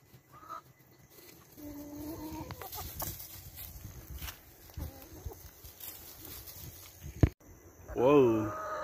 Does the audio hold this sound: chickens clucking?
yes